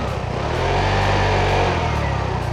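A 2015 KYMCO G6E 125cc scooter engine idles steadily through its exhaust, a loud, even, throaty rumble close by with a regular pulse, no voices.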